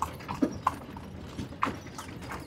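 Horse hooves clip-clopping on a track at Lahore Fort, a handful of irregular hollow knocks at moderate distance over outdoor ambience.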